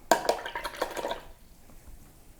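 A paintbrush works water into Winsor & Newton Cerulean Blue watercolour paint, giving a few close, wet drips and dabbing splashes for about a second before fading to quiet.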